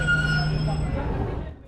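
The Tezgam Express passenger train runs across Pakistan with a steady low rumble of wheels and carriage noise, heard from on board, with faint high squeal tones that fade out toward the end.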